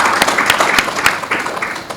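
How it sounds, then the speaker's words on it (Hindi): Applause for the president of a Rotary half marathon event, a dense, steady clatter of many hands at moderate volume that lasts the whole two seconds with scattered sharper claps. "कृपया हमारे प्रेसिडेंट के लिए तो तालियां बजा"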